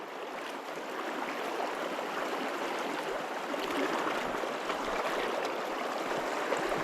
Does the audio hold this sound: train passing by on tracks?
no